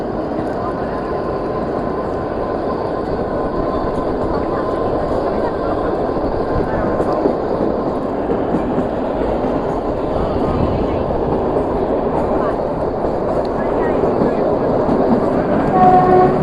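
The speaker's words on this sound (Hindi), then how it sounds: "अब ट्रेन का चलने का टाइम हो चुका है।" Kalka–Shimla toy train on the Himalayan Queen service rumbling steadily along its mountain route, a continuous broadband clatter of wheels and carriage noise with brief high whistle-like tones near the end, voices faintly mixed in.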